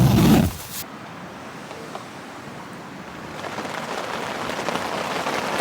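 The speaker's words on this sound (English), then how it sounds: "Looks like the rain's back just in time for sleep. It's getting pretty heavy actually" Heavy rain drumming on a camping tent during a solo night out, a soft steady hiss after a brief loud thump at the start, swelling slightly louder toward the end.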